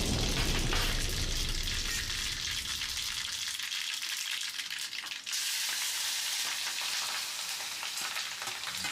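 Mustard seeds and asafoetida tempering in hot oil for a raw banana sambharo, a loud crackling sizzle that starts intense and keeps spitting and popping with stirring, no voices.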